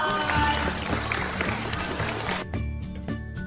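Children at a school prize-giving event clap for a winner, with a dense burst of applause that thins into scattered claps toward the end, while a voice talks over it.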